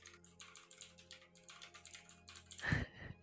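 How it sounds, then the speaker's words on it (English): Steady, quick clicking of keys on a computer keyboard, close and fairly quiet, with a soft thump near the end. "How is Curran typing"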